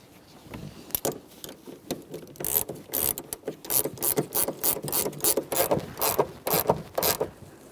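A ratchet with a 17 mm socket tightens the rear shock mount on a 2012-2015 Honda Civic, giving close, rapid bursts of clicking strokes in a steady back-and-forth rhythm.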